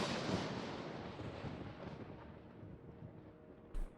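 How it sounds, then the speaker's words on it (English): A structure in Empyrion Galactic Survival collapses after a destroy command, a loud rumbling crash that fades into a long low decay, ending with a brief thump. "put that generator down and the whole damn thing collapsed"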